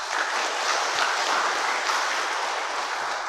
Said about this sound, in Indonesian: hari ini kita boleh tepuk tangan dulu untuk kita semua